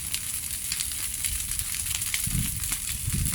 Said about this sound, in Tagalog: ganyan ang apoy sa impyerno, napakainit na niya